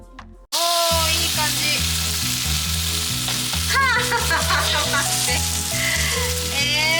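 Crumbled tofu frying in a pan with salt, a loud steady sizzle that starts abruptly and continues throughout, with a low, rhythmic tonal pattern running beneath it.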